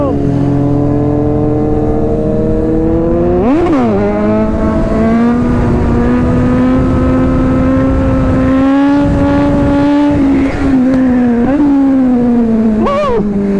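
Several superbikes from a group including a Kawasaki Ninja ZX-6R, Z900 and GSX-S750 roar past one after another, one rider up on a wheelie, engines loud and close with rising and falling revs while people talk excitedly over them.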